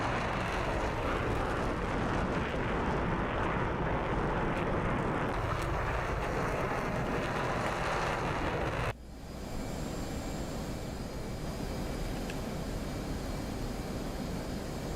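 An F/A-18C jet in the flight simulator DCS roars with a loud, continuous engine rush and a whine, flying a carrier landing pattern. Partway through, a sudden shift leaves a slightly quieter, steadier engine drone with a faint high tone.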